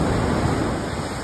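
Big ocean surf at a beach in Sayulita, Mexico, a steady broadband wash of breaking waves that stays loud and even throughout with no pauses and no voices.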